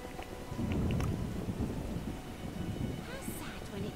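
Rain and rolling thunder in a stormy scene from the video game The Witcher, with a steady wash of rainfall under low rumbles that swell early on, plus a brief high-pitched chirp near the end.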